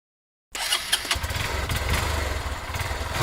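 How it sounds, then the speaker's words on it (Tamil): A motorcycle engine catches after a brief silence and settles into a close, steady idle with a rough, throbbing mid-range rumble. "என்னடா வண்டி இது? Bike change."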